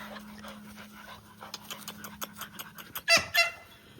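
Several dogs pant in quick rhythmic breaths nearby, with a steady low hum underneath and a few louder sharp yelps or honk-like sounds near the end.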